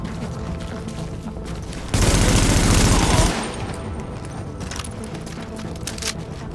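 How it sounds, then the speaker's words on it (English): Automatic weapons fire in the video game The Division comes as a loud, dense burst of rapid shots lasting over a second, set against ongoing game noise and scattered clicks. "They're shooting everyone in sight!"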